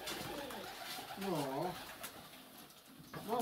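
Pigeons coo softly in a dovecote, with a couple of clear rolling coos standing out over a close human voice talking throughout.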